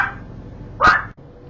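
A single short, loud dog bark close by, with faint room background before and after.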